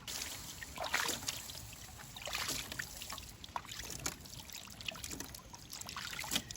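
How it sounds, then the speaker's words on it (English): Water swirls and sloshes in a gold pan of classified material on a rainy day, a continuous close splashing wash with soft trickles and irregular gritty surges. "I'm gonna pan this out and see what's in that one pan of classified material."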